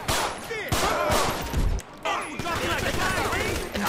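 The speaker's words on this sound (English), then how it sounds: "Look, oh, they shooting." Video game gunfire in GTA 5 during a gang brawl: rapid bursts of shots with sharp cracks and ringing, some near and some more distant, while people talk over the action.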